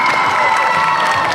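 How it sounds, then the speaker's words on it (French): A crowd applauds and cheers a Furina cosplayer from Genshin Impact at a cosplay contest at a Montpellier gaming show, a loud, dense burst of clapping mixed with shouts and cheers. "On l'applaudit."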